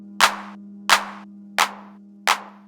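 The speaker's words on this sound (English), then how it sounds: "The main problem with claps in D&B is that you can't just take claps from techno and house and use them." A drum and bass clap sample played four times at an even, steady pace, each a crisp, bright, sharp hit with a short tail, over a low constant hum.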